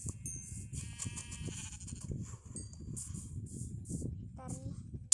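Sheep bleat repeatedly in a video game, thin wavering calls over a steady low rumbling background, with a brief spoken voice near the end.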